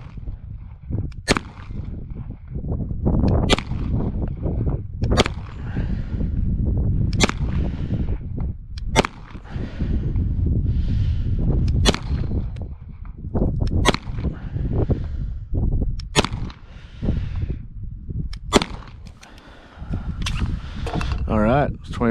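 HK SFP9L pistol shots fired at a paper target ring out sharp and loud at a steady pace, about a dozen reports spread across the stretch, with the shooter talking between them.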